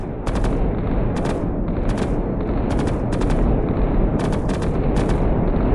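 Rapid bursts of laser weapon fire strike Mars in the Solar Smash game, repeating in short clusters over a loud, constant rumbling roar.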